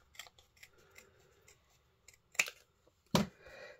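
Scissors snip through a scrap of paper during card making, two sharp close cuts standing out over faint rustling and handling.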